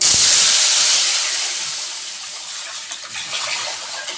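Tamarind and tomato water poured into a hot pan for rasam, a loud hissing sizzle and splash right at the start that fades into a softer, steady hiss.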